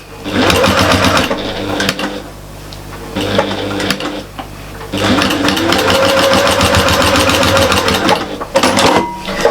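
Sewing machine stitching the edges of a fabric storage caddy lid, running in loud sustained bursts with rapid needle rhythm, pausing briefly twice before starting up again.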